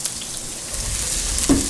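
Chopped onions sizzling in a hot oiled pan while Korean pancake is made, a steady close crackle with a brief louder spatter near the end.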